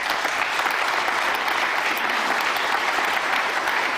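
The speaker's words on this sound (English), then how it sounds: "the fact that he got an applause for that" A large audience claps steadily for a speech at the Munich Security Conference, sustained and dense with no breaks, filling the hall without voices on top.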